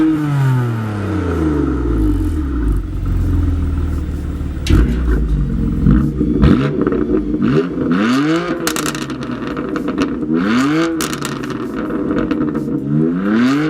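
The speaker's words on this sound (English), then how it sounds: "the M Performance exhaust system with carbon fibre tips" A BMW F80 M3 with an M Performance exhaust and carbon fibre tips revs repeatedly, each loud blip sweeping up and falling back over a deep burbling idle, close and alone.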